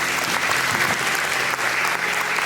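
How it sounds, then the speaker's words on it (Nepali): An audience at a church summit applauds Pastor Puspa Khanal with sustained, even clapping from a large room full of hands, loud and continuous for the whole stretch. "हामी यो घडी पास्टर पुष्पलाई जोरदार ताली लगाएर धन्यवाद दिन्छौँ।"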